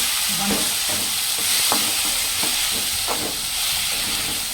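Tomatoes sauté in a pan with a loud, hissing sizzle and regular stirring knocks and scrapes of a spoon, heard up close with no talking.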